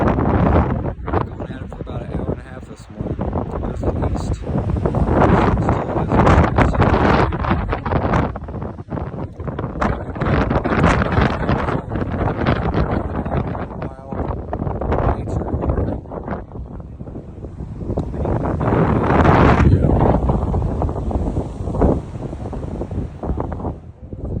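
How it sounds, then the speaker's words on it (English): Strong wind roars and batters the microphone in loud, sustained gusts that swell and ease over a long stretch on the W Trek near Torres del Paine, Patagonia, Chile, with no talking. "It is windy as hell, windy as I've seen so far."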